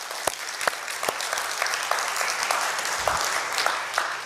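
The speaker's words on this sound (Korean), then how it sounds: "그 하나님께 박수합시다." A church congregation applauds at an anniversary revival meeting held in a covenant church, a broad, steady wash of clapping with a few sharp claps standing out, filling the room throughout.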